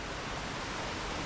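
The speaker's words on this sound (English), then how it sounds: "big raining today here in southwestern Indiana" Heavy rain pours down in southwestern Indiana, a dense, unbroken hiss that stays loud and steady with no other sounds.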